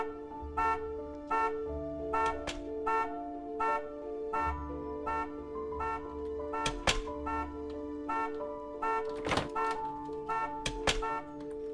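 A car horn in the video game Friendzone Simulator honks repeatedly in short rhythmic toots, steady and fairly close, with a few sharp clicks between them.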